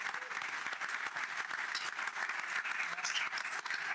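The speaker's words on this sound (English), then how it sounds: "a round of applause for all of our speakers" Steady applause fills a forum audience at a community meeting on Estero's future, a dense continuous patter of many hands clapping at moderate distance with no talk over it.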